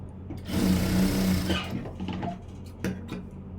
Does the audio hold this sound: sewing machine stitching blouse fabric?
yes